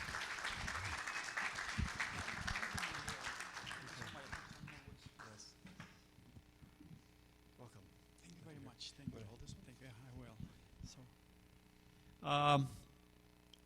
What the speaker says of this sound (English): Let's give a rousing applause here to our very good friend,